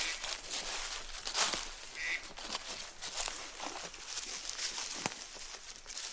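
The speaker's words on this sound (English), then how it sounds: "Dang, there's a duck." A duck quacks a few times outdoors in Nantahala National Forest, brief calls standing out over steady wind and leaf rustle, with footsteps crunching nearby.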